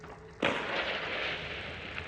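A sudden loud explosion in the video game Hunt: Showdown 1896 erupts after a short quiet lead-in, followed by a sustained rumbling roar that stays loud and gradually fades.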